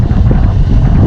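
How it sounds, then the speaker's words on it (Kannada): Strong wind buffets the microphone at a mountain campsite during outdoor cooking, a loud, continuous low roar with no talk over it. "ಗಾಳಿ ಮಾತ್ರ ಫುಲ್ ಸಕ್ಕತ್ತದ ಈ ಸೈಡೆಲ್ಲ."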